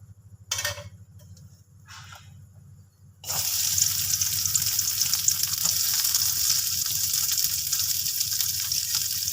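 Sliced onion frying in hot oil for misal, a loud steady sizzle that bursts in after a few quiet clatters and hisses on and on close up without talk.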